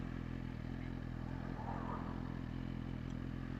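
A motorcycle cruising along on a ride, its engine giving a steady, close, continuous low droning hum with a faint rattling clatter and no noticeable revving, heard alone without any talking.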